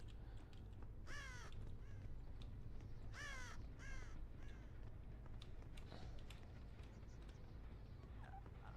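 Crows caw in the horror video game Dead by Daylight, two clear bursts of harsh repeated caws early on, then fainter calls over a low, constant ambient game drone.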